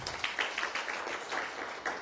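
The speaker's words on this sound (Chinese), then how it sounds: "那个大家鼓掌欢迎他一下" Audience applause welcoming a guest speaker at a lecture event, steady dense clapping throughout, moderately distant and fairly quiet, with no talking over it.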